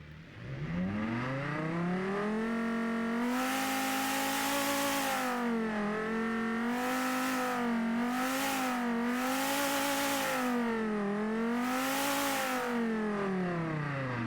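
A twin-turbo sports car engine in BeamNG.Drive revving repeatedly, its loud harmonic tone sweeping up and down through several throttle pulls, close and continuous with no talk.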